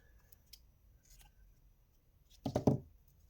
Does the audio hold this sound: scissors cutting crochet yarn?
yes